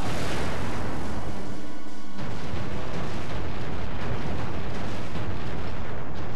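A bomb exploding in the Bomberman 64 video game, a loud, sustained roaring blast with a short dip partway through, then continuous booming noise.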